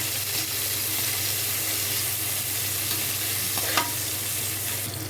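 Green chillies sauté in two spoonfuls of oil in a pan for Andhra-style chilli chicken, giving a steady, close sizzle with light stirring scrapes throughout and no talking.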